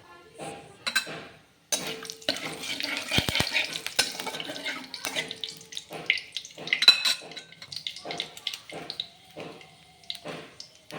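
Half a teaspoon of five-spice seeds and two torn bay leaves frying in oil in a pan, a faint crackle broken by clinks and scrapes of a utensil against the pan, close and fairly quiet.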